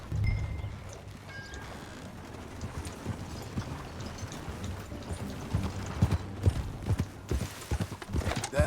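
Horse hooves clip-clopping at a walk in the video game Red Dead Redemption 2, a steady rhythmic patter of hoofbeats growing louder and closer toward the end, with faint creaks of tack and no talk.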